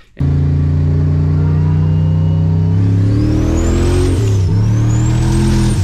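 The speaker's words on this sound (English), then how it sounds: "This is my 78 Camaro. It's got a LS in it from a 2004 Tahoe." A 1978 Camaro with a 2004 Tahoe LS engine, GT45 turbo and MSD ignition, idling loud and close, then revving up with a rising turbo whistle, easing off and climbing again.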